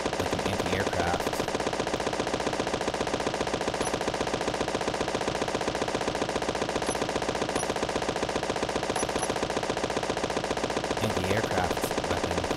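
Rapid-fire automatic warship turret guns, roughly 50mm, in the Space Engineers game, a dense unbroken stream of fast, evenly spaced shots at steady loudness for the whole stretch.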